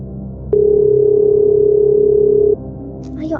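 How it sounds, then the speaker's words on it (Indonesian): A steady electronic phone tone sounds as a call is placed, one unbroken beep held for about two seconds after a brief click, loud and close, with faint background noise and a voice starting at the end. "Syafiana, aku harus telepon dia."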